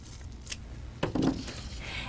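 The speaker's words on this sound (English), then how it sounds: "after you've cut an assortment of the warm colored tissues" Scissors snip through tissue paper while squares about an inch across are being cut, giving a few faint, quick crisp cuts close by in a quiet room.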